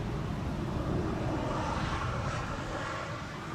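A wide-body United Airlines airliner approaches Amsterdam Schiphol's Polderbaan runway 18R in windy weather, its jet engines giving a continuous, fairly loud roar that swells slightly and then eases as it passes.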